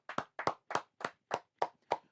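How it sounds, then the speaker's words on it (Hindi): Seven sharp hand claps in a steady, even rhythm, close and alone, given as applause for a viewer. "तालियां हो जाएं"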